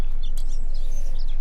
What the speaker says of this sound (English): My bird's singing.